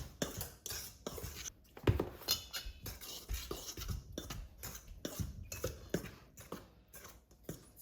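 A spoon scrapes and taps around a bowl, mixing dry muffin batter ingredients with cinnamon, in quick irregular clinks and scratches, close and fairly quiet.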